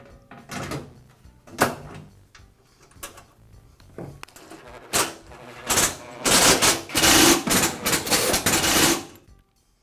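A plastic grate snapping onto a forced-air heater and its top cover being replaced, a series of sharp plastic clicks and clacks, then a louder run of rattling, knocking handling noises near the end.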